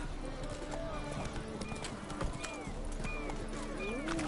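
Roach, the horse in The Witcher 3, galloping with a continuous rapid clip-clop of hooves under game music and ambient noise, fairly steady throughout.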